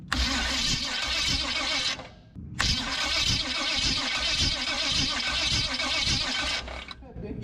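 A Ford Model A engine on a build gets cranked, with a loud, rough, rhythmic churning that cuts out briefly, resumes and runs choppily before stopping again. A brief voice may come in near the end.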